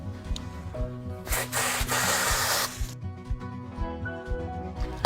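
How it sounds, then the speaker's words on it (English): A short burst of hissing spray from a hose onto a Maelstrom filter, lasting a second or two, surrounded by irregular knocks and clatter. "I'm just going to give it one little quick spray with the hose"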